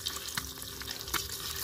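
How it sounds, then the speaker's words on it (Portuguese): An egg fries in a small pan on a mini wood-burning stove, giving a close, steady crackling sizzle with a few sharper spits and pops throughout. "descobri tua panelinha boa pra fritar ovo, hein?"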